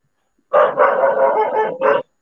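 A dog barks loudly nearby: one long, drawn-out bark followed by a shorter second one, clear and with no voices over it.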